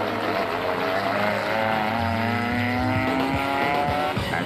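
Cross-country rally cars race past during the 2007 African Heritage event, engines revving loudly with rising and falling pitch as they charge by close, one after another, tyres hissing on the track.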